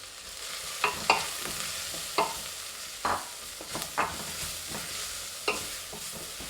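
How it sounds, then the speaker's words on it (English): Chopped onion for lasagne cooks in a pan, with a soft steady sizzle under repeated clear scrapes and knocks of a spoon stirring it, and no one talking. "I'm just busy cooking the onion until like it's cooked"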